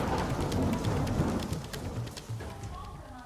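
Heavy rain falling around Thane near Mumbai, a dense hiss of drops with scattered sharper patters and a low rumbling background, heard from fairly close and gradually easing in level.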